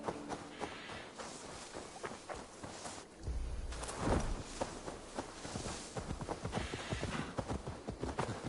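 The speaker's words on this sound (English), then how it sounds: "I don't understand why horses go so slow up hills" A horse's hooves clip-clop at a slow walk up a hill in Assassin's Creed Valhalla, a steady, fairly close rhythm of hoofbeats that continues for the whole stretch with no talking.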